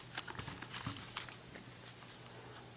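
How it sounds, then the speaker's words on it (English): Plastic wrapper peeled off the small packaging of a 4th-generation Apple iPod Shuffle, soft crinkling and light tearing up close, quiet and irregular, fading toward the end. "So let's just peel off this wrapper."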